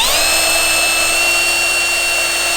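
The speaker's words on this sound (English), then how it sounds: "it's kind of nice with the different sanding wheels" A power tool fitted with a sanding wheel, used to round off jet ski parts, whines at a steady high pitch, loud and close throughout with no breaks.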